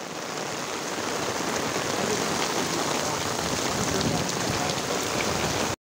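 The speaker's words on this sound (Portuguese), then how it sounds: "uma boa chuva que cai nesse momento aqui em nossa terra" Heavy rain pours steadily in the Sertão Central of Rio Grande do Norte, Brazil, a loud unbroken hiss of water drumming on surfaces close by, with no voices.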